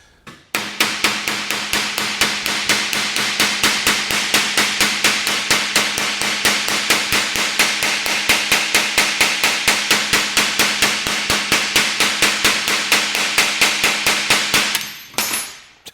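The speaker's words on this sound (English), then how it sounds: "We're gonna have to go with the hammer." Rapid, steady hammer blows on the metal body of a 1937 Lincoln Zephyr barn find under restoration, dozens of sharp close strikes in an even rhythm that stop abruptly near the end.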